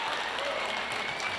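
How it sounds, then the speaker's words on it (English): A crowd at a professional billiards tournament applauds in a dense, continuous burst of clapping, moderately loud and filling the whole short stretch. "Sounds like Bergman's won a game over on table 1. You know the sound of that crowd."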